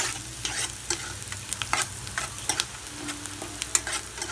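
Something frying until brown for a flattened-rice biryani, a continuous close sizzle broken by repeated scraping and clinking stirring strokes at an uneven rhythm.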